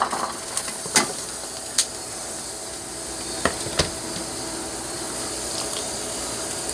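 Shallots, chili and garlic sizzle and hiss in a hot pan for Thai cooking, a steady close frying sound punctuated by a few sharp clinks of the stirring utensil.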